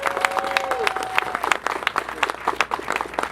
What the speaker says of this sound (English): Ladies and gentlemen, round of applause, Chip Foose.